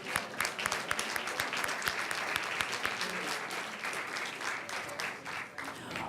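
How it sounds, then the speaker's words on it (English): Audience at a school board meeting applauds a student softball player, dense clapping with sharp individual claps standing out, sustained and fairly loud for several seconds. "Let's give her a big round of applause."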